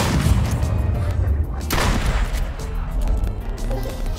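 Shotgun shots from a duck hunt fire in a steady outdoor clatter, loud and continuous, with the individual blasts smeared together by wind and rumble rather than standing apart as clean reports.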